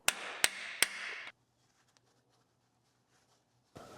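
A socket is hammered to drive a 1.5-inch freeze plug into a C10 Squarebody engine block: three loud, evenly spaced metallic strikes, then quiet, then another strike starting.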